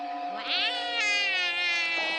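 A cartoon ghost cat from a Doraemon episode lets out a long, bright, wavering meow that rises and bends across a couple of seconds, loud and close, heard on its own without talk.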